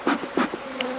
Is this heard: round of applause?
no